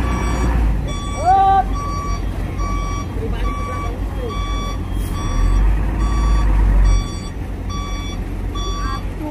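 A bus backing up while boarding a Japanese-built ferry at Merak port gives off steady, evenly spaced reversing beeps over a low engine rumble and busy port noise, with faint voices in the background.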